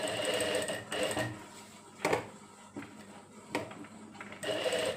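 A sewing machine stitching cut work on a blouse, running in bursts of rapid mechanical whirring and clicking with short pauses between them, close and moderately quiet, no speech.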